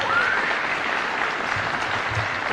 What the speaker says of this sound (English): y'all gotta get a bigger hand of applause than that for the mayor of our city